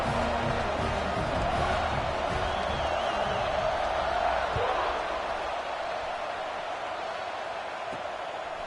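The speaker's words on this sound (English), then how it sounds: "this crowd is buzzing after that last score" A football stadium crowd after a score keeps up a loud, dense roar, with a broadcast commentator speaking over it, before the noise eases slightly toward the end.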